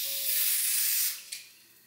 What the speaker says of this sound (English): I gotta spray on top because I can't spray underneath.